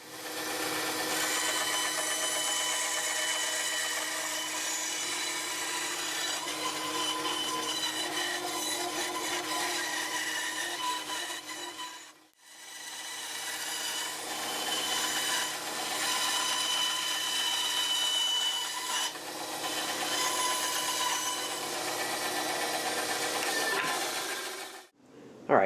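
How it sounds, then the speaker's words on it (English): A bandsaw cuts out marked wooden shelf pieces in a workshop, a steady close rasping whine running in two long passes with a brief pause midway and no talk. "now over to the bandsaw and we'll cut them out"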